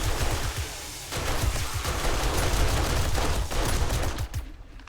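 Automated base turrets in 7 Days to Die fire in dense, fast volleys, loud and close, with rapid overlapping shots that keep pounding for several seconds before cutting off near the end.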